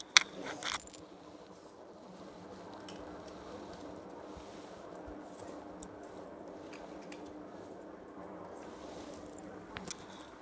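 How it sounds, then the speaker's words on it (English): A pile of tarot cards spills down in a short, rustling clatter at the very start, then gives way to a quiet, steady room hiss. "Cards just fell"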